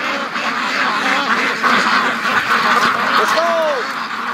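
A flock of free range ducks quacks continuously and loudly nearby, overlapping calls forming a busy chatter, with a person talking over them at times.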